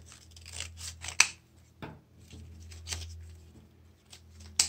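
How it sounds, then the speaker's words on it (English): Scissors snip through coffee filter paper while trimming small bits off the edge of a craft rose petal, with sharp close crisp cuts spaced out amid soft paper rustling. "I'm just cutting off these little bits"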